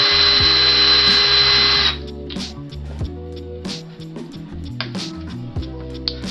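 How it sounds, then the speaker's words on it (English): A drill bores eye holes into a wooden topwater fishing bait, whining loud and steady for about two seconds, then stopping and giving way to quieter clicks and handling knocks. "Drill slow, work your way in."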